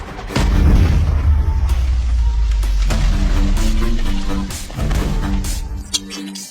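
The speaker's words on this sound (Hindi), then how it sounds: "उसने बम फेंक दिया" A bomb explosion in a 1970 film swordfight scene comes as a loud, deep boom that rumbles and roars for several seconds, with crashing debris and a swelling music score layered over it.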